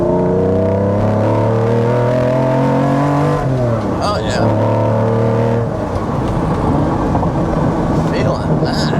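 A Lamborghini Diablo's V12 accelerates hard in second gear, its loud, close engine note climbing in pitch, dropping briefly at a shift and then surging again.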